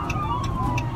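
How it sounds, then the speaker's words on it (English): Police sirens wail steadily in the distance, pitches sliding slowly, with a low traffic rumble underneath. "sorry about the sirens"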